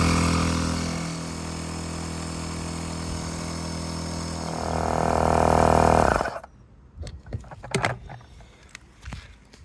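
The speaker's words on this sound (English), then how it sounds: "I've got the pump set to 1" Aerogogo Zetta 138 electric SUP and kayak pump running with a steady loud whirring drone that rises in pitch, then cuts off, leaving quiet handling sounds.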